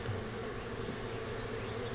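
Dense, steady buzzing of many honey bees at a swarmy top bar hive, a continuous droning hum with no pauses, fairly close and moderately loud.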